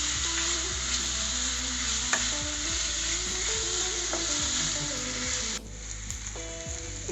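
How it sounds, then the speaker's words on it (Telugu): Mushroom pieces fry in a hot pan with a steady close sizzle, while a spoon stirs and scrapes at intervals; the hiss drops partway through. "ఇప్పుడు మష్రూమ్స్ వేగాయి."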